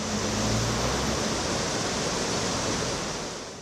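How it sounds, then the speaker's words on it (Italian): Floodwater of the Piave river surging along its banks: a loud, continuous, even roar of rushing water with no breaks and no voices. "Risalendo il Piave, l'acqua è impetuosa"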